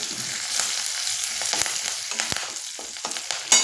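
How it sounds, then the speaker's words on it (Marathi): Cumin seeds sizzle and roast in hot oil in a pan, a steady close crackle broken by a few sharp clicks and scrapes from stirring, with no talk over it. "हे जिरं एवढं टाकायचं. भाजतंय ना सगळं मिक्स होतंय."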